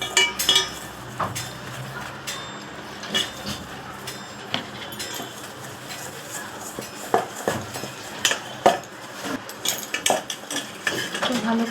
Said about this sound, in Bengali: একটু খাওয়ার সোডা জল দিয়ে মাখিয়ে নিই